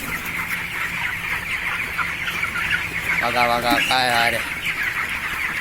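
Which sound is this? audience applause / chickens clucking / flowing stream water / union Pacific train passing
chickens clucking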